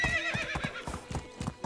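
Horse hooves clip-clopping in the medieval video game Medieval Dynasty, a quick even run of hoofbeats up close with a brief whinny, no talk over it.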